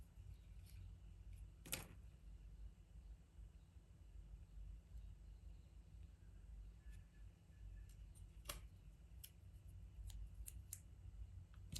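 Scissors cutting out a small paper folding card, a few sharp isolated snips over a steady faint background hiss, close and quiet.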